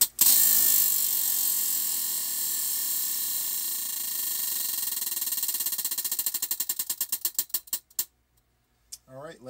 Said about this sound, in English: Let's go ahead and spin for that last stitch